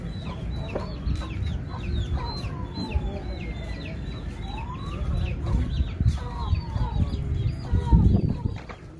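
Chickens cluck and chatter steadily over a low rumble of wind or background noise, with a few louder calls near the end, including a rooster.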